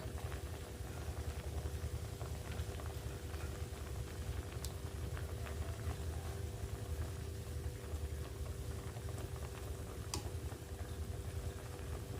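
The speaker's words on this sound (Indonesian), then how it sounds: "kita tunggu ya sampai airnya reduce." Sauce for a chicken steak simmering in a pan as its water reduces, a low, constant bubbling hiss with occasional faint ticks, no voices.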